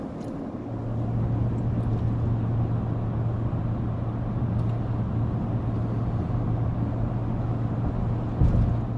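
A truck drives on a freeway in rush-hour traffic, heard from inside the cab as a steady, loud engine and road drone with a constant low hum, and a brief bump near the end.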